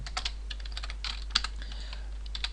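Code being typed on a computer keyboard in a quick, uneven patter of close key clicks, heard alone over a low steady hum.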